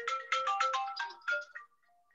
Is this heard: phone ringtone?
yes